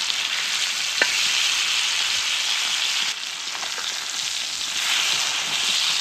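Bangda (mackerel) fish frying in oil over a low flame, a steady close sizzle and crackle that runs the whole time with a few soft pops and no voices.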